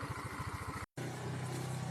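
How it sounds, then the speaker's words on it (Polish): A KYMCO Agility S scooter's small two-stroke engine buzzes with a pulsing putter, cuts out briefly, then resumes as a steadier, higher-pitched drone moving off. "I mój skuterek odjeżdża."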